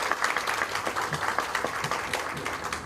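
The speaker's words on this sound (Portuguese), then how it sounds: "Uma salva de palmas para ele." Audience applause for a speaker at a round-table panel of an education conference, a steady patter of many hands clapping, moderately loud and filling the room without talk.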